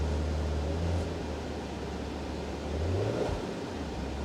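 A terrible car's engine idles steadily at a salvage auction lot, with a deep, continuous low rumble from the exhaust, swelling slightly near the end.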